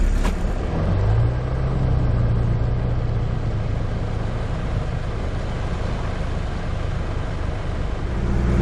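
A four-wheel drive vehicle crawls along in low range off-road on a Cape tour, its engine holding a steady low drone with a brief rise early on, heard from inside the cab.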